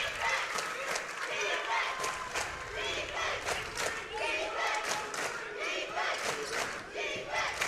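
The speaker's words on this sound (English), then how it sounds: "As you can hear the crowd, they're into it." A basketball crowd roars and cheers continuously through a tournament game, loud and dense with rising shouts, while a commentator talks over the noise.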